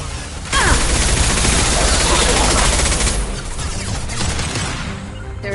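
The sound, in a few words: high-impact gunshot in video game Mass Effect 2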